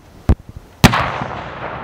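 Explosive charges set off during safety training for journalists: a sharp blast, a few small pops, then a much louder close detonation with a long rumbling decay that fills the rest of the moment.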